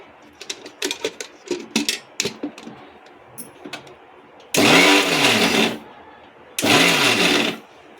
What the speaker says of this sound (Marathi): तर आता आपण खोबरं ग्राइंड करून घ्यायचं आहे.